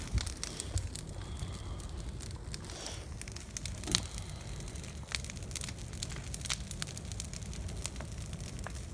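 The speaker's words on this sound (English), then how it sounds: "When you're torching burn piles, it's just blatantly obvious the power that fire has." Burning brush pile beside a dead valley oak snag crackles and pops steadily, a dense bed of small snaps and hiss with one sharper crack, no talking.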